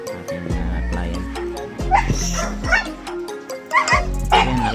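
A female husky barks and whimpers close by, with repeated sharp yips and bow-wows mixed with whiny cries in an uneven rhythm, while people talk in the background.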